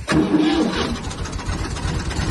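Massey Ferguson MF 240 tractor engine starting cold: a brief cranking whine, then the engine catches and settles into a loud, steady, close diesel idle.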